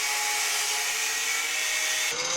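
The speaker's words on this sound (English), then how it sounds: "cut out the very scarred metal and drilled the old spot welds" Drill boring out old spot welds in a metal lower front panel of a Talbot Express camper van, a steady high whine that drops in pitch near the end, close and continuous.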